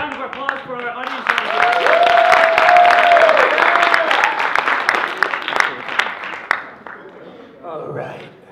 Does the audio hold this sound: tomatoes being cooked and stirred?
no